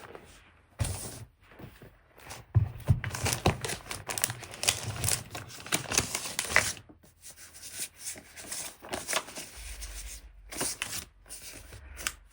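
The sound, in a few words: handling a sticker sheet to grab a sticker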